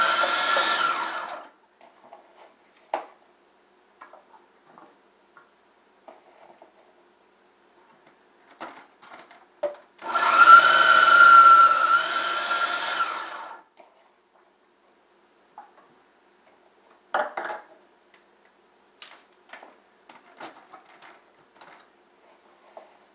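A food processor chops cauliflower pushed through its feeding tube: a few short motor bursts, one longer whirring run of about three seconds, then scattered clicks and knocks between near silence.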